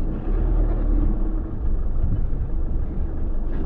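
A four-wheel drive vehicle's engine rumbles steadily and loud from close by, a continuous low drone with no voices over it.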